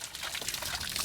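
Rinse water being poured out of a Thetford cassette toilet, a steady close splashing pour that runs the whole short moment with no talking.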